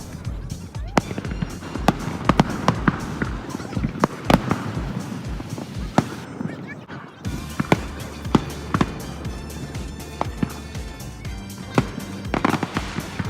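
A fireworks display crackles with sharp, repeated bangs and pops at irregular intervals, some louder and nearer than others, over a busy background of crowd noise and voices.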